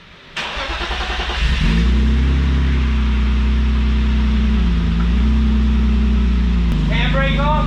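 A car engine cranks briefly and catches, then settles into a steady, loud idle with a deep low rumble that carries on to the end, people speaking faintly in the background.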